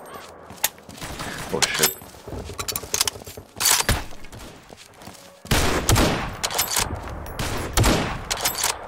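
Repeated gunfire in a Garry's Mod multiplayer server, with sharp loud bursts and rapid volleys clustered around several moments, mixed with mechanical clicks and a brief exclamation from a player.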